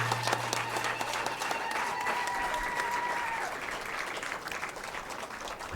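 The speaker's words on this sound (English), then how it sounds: "Let's give them a round of applause." Sustained applause from an audience at a ceremony for a donation of medical equipment in Namibia, steady and fairly loud for almost six seconds, with a faint tone and murmur underneath.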